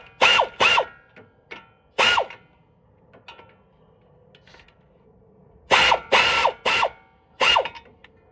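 A hand ratchet tightens suspension bolts on a 2008 Dodge Durango, giving sharp, close clicking bursts in a few quick groups separated by quieter pauses.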